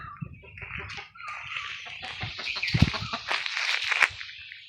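Native country chickens cluck and squawk close by, with a flurry of busy calls and some wing flapping throughout, no talking.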